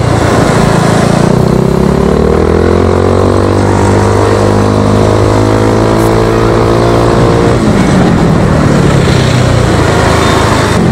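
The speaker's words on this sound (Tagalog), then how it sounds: "Pero kung napapansin nyo guys, o naririnig, naka-open pipe ito. Guys, bali naka-chicken pipe ito." A Yamaha Mio Sporty motorcycle with an open chicken pipe exhaust drones loudly and steadily up close, its pitch climbing as it revs, then dropping away into a rougher idle near the end.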